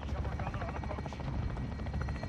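A chopper gunner helicopter in Call of Duty: Modern Warfare makes a steady, loud rotor thrum and buzz throughout, with dense game noise underneath and faint talk mixed in.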